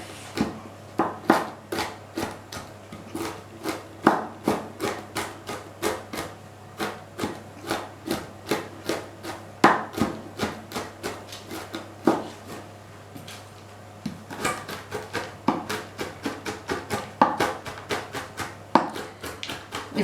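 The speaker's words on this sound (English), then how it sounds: "Mind your fingers when you're chopping." Ingredients for raspberry granola bars chopped with a knife on a wooden board, a steady run of close, sharp taps in an uneven rhythm with short pauses, under a low constant hum.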